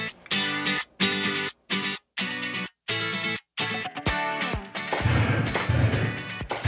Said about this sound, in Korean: 실제 총과 비슷한 무게감과 반동이 느껴지는 스크린 사격